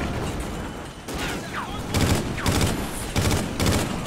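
Gunfire in the video game Call of Duty Ghosts: loud, rapid bursts of automatic fire repeat in quick succession, with short pauses between volleys.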